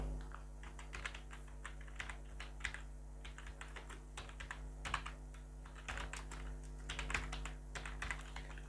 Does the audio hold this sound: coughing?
no